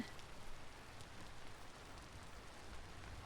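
Steady rain in the survival game Vintage Story, a soft continuous hiss of drops falling on surfaces, moderately quiet and even throughout with no voices.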